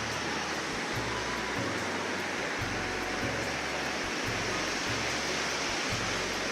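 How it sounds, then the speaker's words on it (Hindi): Clear glacier meltwater stream near a remote village at Siachen rushes in a constant, loud, broadband roar close by, with no voices. "ये देखें पानी कितना साफ़ पानी आ रहा है।"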